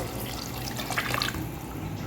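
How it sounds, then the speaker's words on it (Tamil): Water from a glass pours into a cooking pot for mutton dum biryani, a quiet, brief run of splashing and trickling with no talk. "4 கிளாஸ் தண்ணி ஊற்றிருக்கிறேன்"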